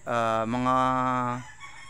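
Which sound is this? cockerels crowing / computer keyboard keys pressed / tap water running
cockerels crowing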